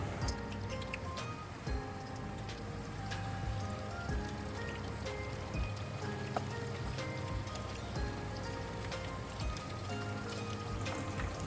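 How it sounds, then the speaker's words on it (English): Chicken pieces for Japanese karaage fry in hot oil with a dense, steady crackle and sizzle, scattered sharp pops rising above the continuous bubbling, fairly quiet and close. "add the chicken so that it doesn't overlap. It's dangerous if the oil splashes, so put it in carefully."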